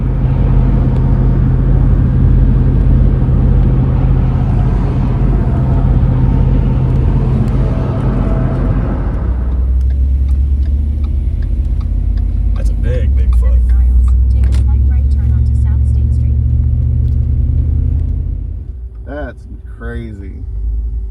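LS1 V8-swapped Nissan 240SX rumbling loudly at first, then the deep drone drops to a lower idle-like tone while people talk nearby.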